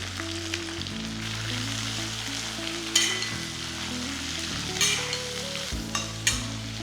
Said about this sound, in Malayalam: കുറച്ച് വേപ്പിലയും കൂടെ ചേർക്കുക.